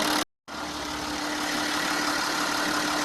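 A Hyundai Veracruz 300VX 2WD engine with 34,000 km on it idling up close, a continuous low rumble with a brief dropout near the start, no voices.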